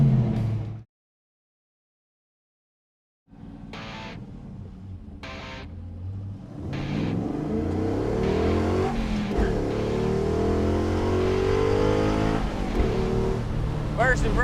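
A custom 1969 Pontiac GTO drives on the road after a brief silence, with a few short bursts of engine noise building into a sustained loud rumble as the car gets underway, with people talking over it.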